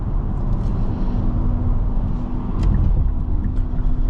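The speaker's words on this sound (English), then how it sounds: "I hear a little bit of the turbo." A 2020 Kia Sportage SX is driven with a steady, loud cabin drone of engine and road noise. A faint turbo whistle sits within the rumble throughout.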